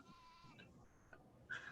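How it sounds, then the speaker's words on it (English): A sheep-like bleat rings out loudly near the end, preceded by quieter, indistinct background sounds with no talking. "That might have been a sheep."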